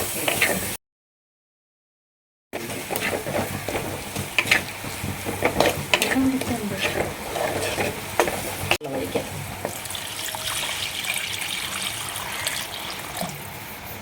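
A Kerala fish curry base is stirred in a pan after tamarind water goes in, with continuous bubbling and sizzling and repeated close spoon scrapes. A brief silent gap comes near the start.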